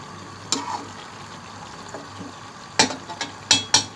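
Macaroni for chicken macaroni stirred in a pan, a low background sizzle broken by several sharp scraping stir strokes near the end, close by, with no talk.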